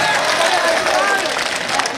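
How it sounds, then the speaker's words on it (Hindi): A large audience applauds and cheers for the poet Hashim Firozabadi at a gathering in Khargone, with dense, steady crowd clapping throughout and voices mixed into the roar. "जोरदार तालियां बजाएं हाशिम भाई के लिए।"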